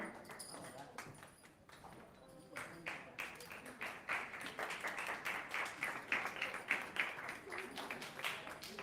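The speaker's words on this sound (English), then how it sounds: "let's give them a round of applause" Applause for students at a high school luncheon, fairly faint and distant at first, then building into a steadier run of claps, with chatter mixed in.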